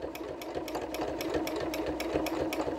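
A quilting sewing machine stitching fast and steady, a quiet whirring motor with a rapid, evenly spaced clicking needle rhythm heard close up with no talking.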